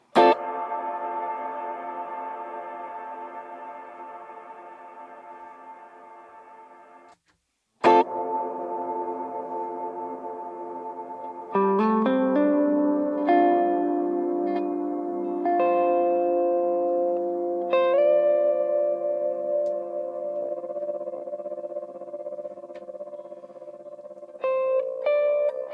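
Electric guitar stabs through a BOSS GT-1000 reverb effect: a sharp chord left to ring into a long decaying tail, then a second stab and a sequence of picked notes with wide ambient wash, loud and alone.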